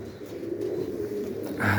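Pigeons cooing in a dovecote, low soft throaty coos repeating close by, with a brief brighter sound near the end.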